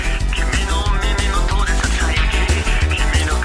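A song plays loud and dense, with a pounding steady drum beat, heavy low end and busy layered instruments throughout.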